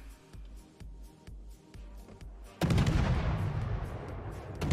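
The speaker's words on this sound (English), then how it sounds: "Thanks for firing your guns at somebody else" Naval guns booming in World of Warships, a Tier X naval battle: soft repeated low thumps early on, then a sudden loud sustained blast of gunfire and rumbling from about midway that stays dense to the end.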